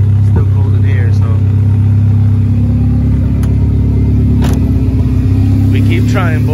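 A car engine idles steadily up close, its low, even drone continuing without a break while a few faint incidental sounds come and go on top.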